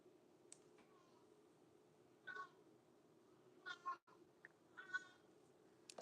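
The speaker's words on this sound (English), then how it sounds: "That's my cat." A cat meows a few times in short, separate calls over a quiet room with a steady low hum; a faint voice may murmur between.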